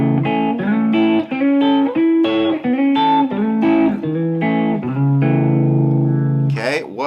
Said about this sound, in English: We're going to use triads to master the fretboard.